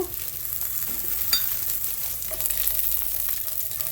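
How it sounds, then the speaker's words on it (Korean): Garlic stir-frying in oil in a pan for a French-style kale sauté, a steady close hiss of frying with light scraping stirs and a sharp utensil tap partway through. "이렇게 마늘도 어, 기름에 예, 약간 인전 아, 볶아주면은 아, 맛있는 그런 전 요리가 되겠죠"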